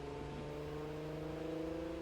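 Car engine sounds played during a Cyberpunk RED tabletop session, a steady droning engine hum with a sustained tone, quiet and continuous without clear revving peaks.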